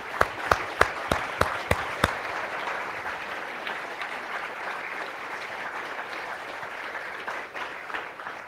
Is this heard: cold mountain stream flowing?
no